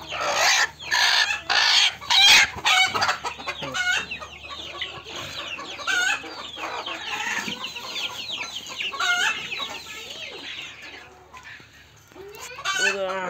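Hens on a semi-enclosed poultry farm cluck and squawk loudly and continuously, close by, with bursts of overlapping calls and no speech.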